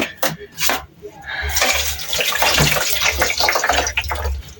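Tap water runs and splashes while samosa utensils are washed in a sink. The rushing flow is loud and fairly continuous, with small clinks and a voice talking over it.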